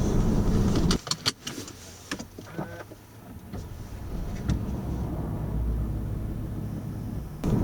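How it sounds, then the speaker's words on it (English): Electric memory seat and power steering wheel motors in a car whirring as they move into a saved driving position, a steady low motor hum with a few clicks and knocks, close by and without speech. "it moves the seat to your prescribed position, the steering wheel moves out towards you"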